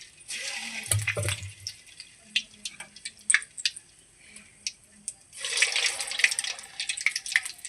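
Balls of sweet bonda batter dropped by hand into hot oil sizzle and crackle loudly in close bursts, with a soft thud as a ball goes in near the start, a quieter bubbling stretch, then a fresh surge of frying.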